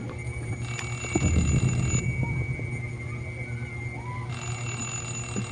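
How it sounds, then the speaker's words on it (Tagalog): An electronic alarm rings continuously in a horror video game, a steady bright tone with rapid ringing layered over low rumbling game ambience. "Ay, stop the alarm."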